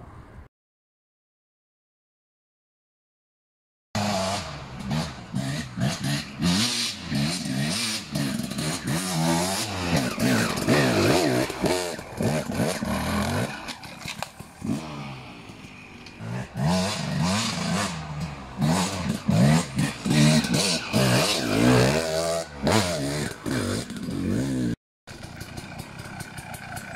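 A KTM EXC 300 TPI two-stroke enduro motorcycle ridden hard at the Erzbergrodeo, its engine revving and crackling loudly and continuously close by, with throttle blips and one brief cut near the end; silence opens the clip.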